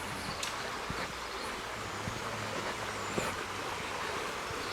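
Flowing water of the Llobregat river near its confluence with the Merlès stream, a steady broadband rush heard alone at a moderate distance, with a few faint knocks and no voices.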